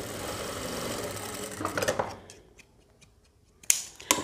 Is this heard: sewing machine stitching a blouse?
yes